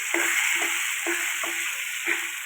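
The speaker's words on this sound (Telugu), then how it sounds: "ముక్కలు కలిపేసి ఇప్పుడు తాలింపు వేసుకుందాం" Tempering sizzles in oil with turmeric for a raw cucumber chutney, a steady bright hiss under five evenly spaced soft knocks of a spoon stirring in the pan.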